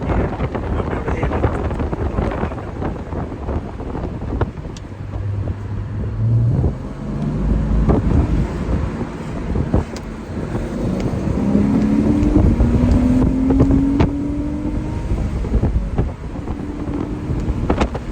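Heavy wind buffets the microphone inside a Porsche Boxster driving with its windows down, a loud continuous roar with rumbling gusts and faint engine and road tones underneath.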